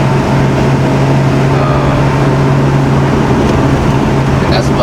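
Nissan R32 Skyline GTR with twin turbos and new spark plugs and injectors, idling loud and close with a steady low drone.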